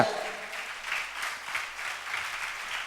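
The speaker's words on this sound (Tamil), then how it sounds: "கைதட்டுங்க" Congregation at a New Year prophetic church service claps together in a steady burst of applause, fairly close and continuous for a few seconds.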